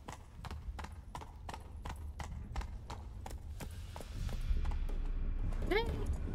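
Horse hooves clip-clopping in the Witcher 3 video game, a steady rhythmic trot of distinct hoof strikes that fades into a rumbling background, ending with a short horse whinny.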